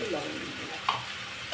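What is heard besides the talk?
spices frying in a pan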